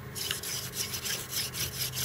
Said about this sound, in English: And then just with the spinning action over a long period of time, gets it hot anyway.